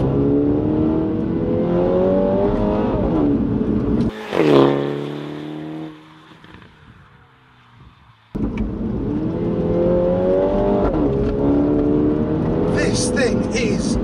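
A 2019 Mini JCW with a pro tuning kit and loud JCW pro exhaust revs hard through the gears while driving, with rising engine notes, a brief lift-off burble and a pause, then strong acceleration again, close and loud inside the cabin.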